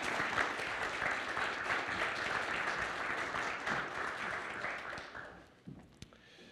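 An audience claps warmly to welcome a speaker, with steady applause that tapers off and ends with a few scattered claps.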